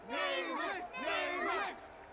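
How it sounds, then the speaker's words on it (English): A crowd in the video game Honkai: Star Rail lets out two swelling rounds of cheering and battle cries, rising and falling in waves, fairly distant and steady. "Let us gift our applause and cheers to these brave and dauntless Nameless"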